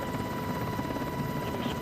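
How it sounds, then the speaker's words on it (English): Sikorsky S-70B-2 Seahawk anti-submarine helicopter of the Royal Australian Navy, its rotor and turbine drone running steady and fairly loud throughout, with no voices. "S-70B-2 Seahawk helicopters were purchased, with deliveries beginning in 1988"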